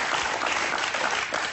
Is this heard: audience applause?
yes